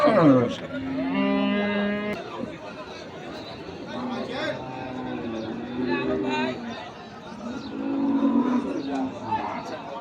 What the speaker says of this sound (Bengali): মাংসের গরুগুলো ক্রয় বিক্রয় করা হচ্ছে